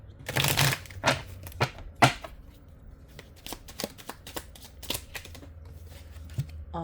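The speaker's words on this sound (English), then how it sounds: "I'm gonna shuffle here." Tarot cards being shuffled up close, a series of crisp riffles and snaps in irregular bursts, with no talking.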